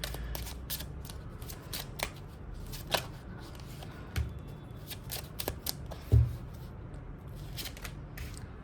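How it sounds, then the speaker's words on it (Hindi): Tarot cards shuffled by hand in a quiet room, a steady close rustle and riffle with soft flicks and a few sharper taps, no talking. "1 सेकेंड के लिए मैं और शफल कर रही हूँ"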